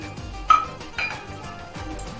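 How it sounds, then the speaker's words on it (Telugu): Tomato pieces stirred in a pan with hot tempering oil, a spoon scraping and clinking against the metal in a few sharp taps spread across the stir, close and fairly quiet. "దీన్ని స్కిన్ పైన విడిపోయేంత వరకు కలుపుకోండి"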